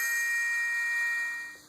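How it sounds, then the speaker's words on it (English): A phone notification rings out as a steady, bright electronic tone that holds for over a second and then fades, close and clear, with no talk. "my phone keeps going off"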